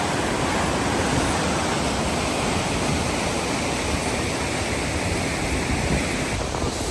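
Floodwater in Prague, Czech Republic, rushes in a powerful, continuous roar, broad and unbroken at a steady level, with no voices heard.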